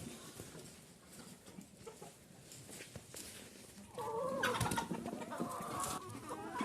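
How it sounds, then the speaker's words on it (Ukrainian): Hens cluck and squawk in a straw-lined coop with turkeys nearby, faint at first and then a louder burst of agitated calling in the second half. "одна і друга кури так ось кричать"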